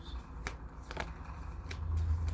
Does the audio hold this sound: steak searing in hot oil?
no